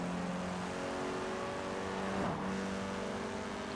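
Volkswagen Golf R engine in Forza Horizon 4, humming steadily with a tonal drone and rising briefly in a rev around the middle, at a moderate distance and fairly quiet.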